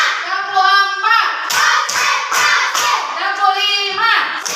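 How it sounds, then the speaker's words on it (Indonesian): Schoolchildren in a classroom clap their hands in short counted bursts, a series of sharp group claps separated by chanted counting voices, close and loud. "Tepuk 1, tepuk 2, tepuk 3, tepuk 4"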